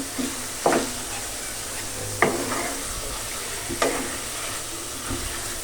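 Food frying in ghee until golden yellow, a continuous close sizzle punctuated by four distinct stirring scrapes spaced about a second or more apart, over a low background hum with no talking.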